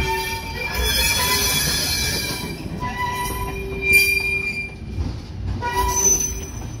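A freight train switching cars at night at a Frito-Lay plant rumbles along with metal wheels squealing and screeching in sustained high tones, loud and close, with clanking surges as cars shift.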